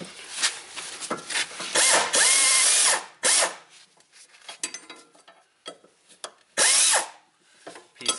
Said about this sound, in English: Put our little mini impact ratchet on the back.